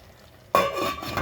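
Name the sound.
stirring rice in a pot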